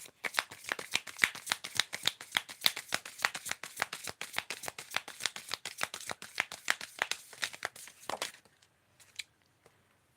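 A tarot card deck shuffled by hand, close and quiet, with a rapid, even run of crisp card flicks for about eight seconds before it stops.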